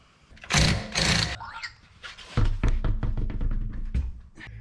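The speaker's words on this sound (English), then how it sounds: "So Corey's gonna take the wheels off" Wheels come off a 2010 Audi A4 in a garage, with loud bursts of an impact wrench or air tool spinning lug nuts, then a series of metallic clunks and knocks close by.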